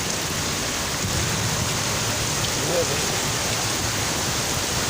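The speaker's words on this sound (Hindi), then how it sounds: "यहाँ से ये देखें बारिश का ज़ोर देखें, आवाज़ देखें" Heavy rain pours down in a dense, constant hiss and roar that fills the air without letup, loud and close and with no break.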